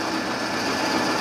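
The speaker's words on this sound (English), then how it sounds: "And I can just slowly drill through" A drill boring slowly through a scale model part gives off a steady, continuous high-pitched motor whine with a grainy cutting texture, close and even in level throughout, with no one talking.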